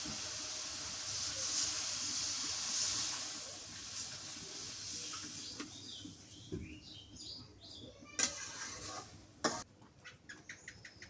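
Water poured into a cooking pan of cooked-down tomatoes for a village-style kalibaush fish curry, giving a steady rushing hiss that fades into scattered sizzling crackles and pops.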